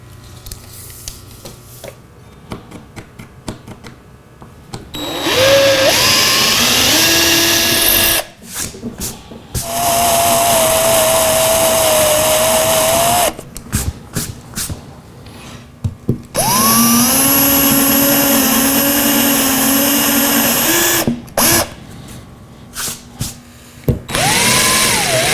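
A power drill bores mounting holes for slides and brackets in a DIY overlanding drawer system, whining loudly and close in two long bursts of several seconds each, separated by short taps and pauses.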